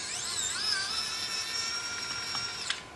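A VEVOR electric precision screwdriver drives a screw with a steady high-pitched motor whine that shifts pitch as it runs, ending in a brief click near the end.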